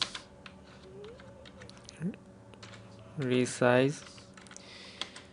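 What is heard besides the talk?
typing text on a computer keyboard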